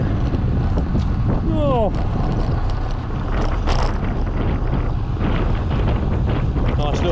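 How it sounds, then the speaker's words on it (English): Strong headwind roars across a microphone on a bicycle ride along a country lane, a constant loud buffeting rush, with a short exclaimed voice. "Only thing is I'm back into the wind again."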